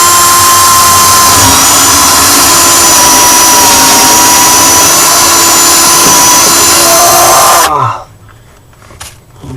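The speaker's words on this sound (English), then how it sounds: "This looks like a good place to drill." A power drill bores into the transom of a 1965 Crosby Sled boat during restoration, a loud steady whine held for about eight seconds before cutting off sharply into quiet.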